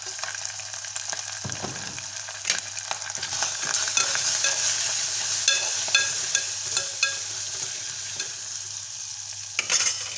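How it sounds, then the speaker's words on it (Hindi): Spices (salt, coriander powder, turmeric and red chili) fry and are stirred in a pan for an Indian gavar bean and potato sabzi, giving a steady close sizzle with frequent scraping stirs and clinks throughout, no talking. "अब मैं डालूंगी उसमें नमक, धनिया पाउडर, हल्दी और थोड़ी रेड चिली।"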